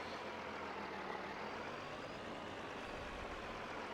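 Steady diesel rumble of a Cummins-powered pickup truck in Farming Simulator 22, idling on a farm while a trailer is hooked up, a continuous broadband engine drone with no voices.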